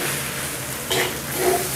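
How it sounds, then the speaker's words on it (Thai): Rice with soy sauce is stir-fried in a pan, giving a steady, close sizzle with a brief scraping stir in the middle. "ผัดอีกสักนิดนึงนะครับให้หอม"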